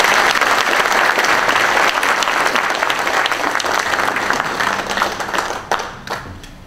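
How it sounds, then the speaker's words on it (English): At a Memorial Day ceremony in Winder, the crowd greets the mayor with full, close applause that holds steady for several seconds, then thins out and fades toward the end. "please give a round of applause to Winder Mayor Jimmy Terrell"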